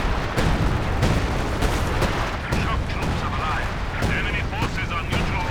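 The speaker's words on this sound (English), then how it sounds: "KIROV dropping the artillery on it, try and prevent that from happening, maybe kill it." Artillery barrage in the strategy game Company of Heroes 2, with dense repeated booming impacts and crackling gunfire rolling continuously and loudly over a busy battle bed.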